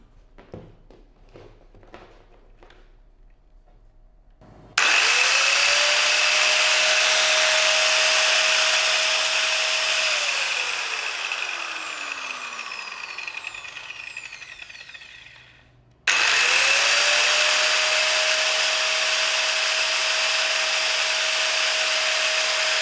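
An INGCO MFS12 multi-function saw, a 350 watt tool, whines loudly at steady speed after faint handling noises, spins down with a falling tone, then starts up again at full speed.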